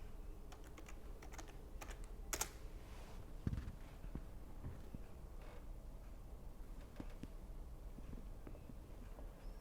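Keyboard keys tapped in short, irregular bursts while a root username and password are entered at a Kali Linux login in a virtual machine, with close, crisp clicks over a low steady room hum.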